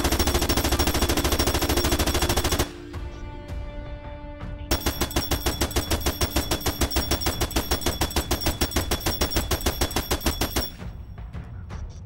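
Synthesized gunfire made in Pure Data for the game Angry Bots, a rapid automatic stream of sharp identical shots, loud and close, pausing briefly before resuming at the same fast steady rate with a ringing tonal layer beneath.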